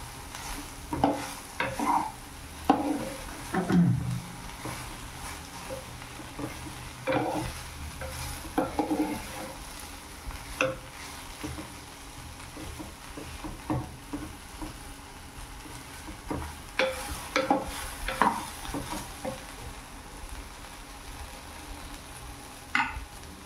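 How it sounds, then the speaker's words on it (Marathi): Okra (bhendi) stir-fried on a high gas flame: a continuous sizzle with repeated spatula scrapes and clinks against the pan coming in irregular bursts. "त्यामुळे स्टार्टिंगला गॅस थोडा फास्ट करून त्याला मस्तपैकी परतून घ्यायची."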